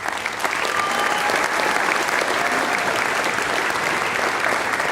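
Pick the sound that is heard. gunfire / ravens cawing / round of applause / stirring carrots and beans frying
round of applause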